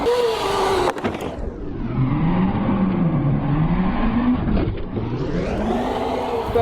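An electric motocross bike riding up a kicker ramp in snow, a loud continuous whirring electric drive that rises and falls in pitch, close and steady with no talk.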